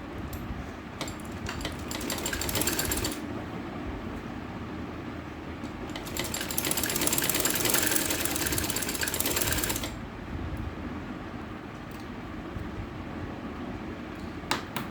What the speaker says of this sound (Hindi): इस तरह से दोनों साइड में स्टिचिंग कर लें।